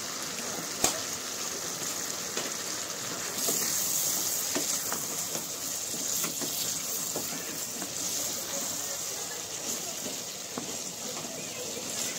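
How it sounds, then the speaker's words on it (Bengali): Soybean curry sautéing in a pan with garam masala gives off a steady sizzle and frying hiss, with faint stirring scrapes and clicks spread over the whole stretch. "কিছুক্ষণ কষার পরে এবার আমরা একটু গরম মশলা অ্যাড করে দিচ্ছি।"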